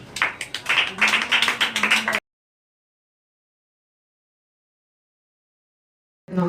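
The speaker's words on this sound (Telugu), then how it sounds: "Okay, big claps." An audience gathered for a talk claps in a short burst of loud, close, overlapping claps for about two seconds, then stops abruptly into silence.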